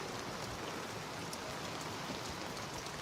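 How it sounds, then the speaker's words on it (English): Rain falls on a convertible lorry as a dense, steady hiss of drops pattering on the surfaces. The sound is loud and uniform throughout, with no talking. "This is raining."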